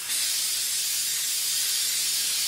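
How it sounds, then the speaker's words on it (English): A continuous, loud hiss of an aerosol spray adhesive can held close, steady from start to finish with no pauses, while gluing paper onto aluminum stock. "And you can spray a liberal amount on."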